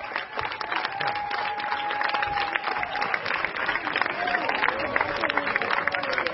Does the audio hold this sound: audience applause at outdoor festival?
yes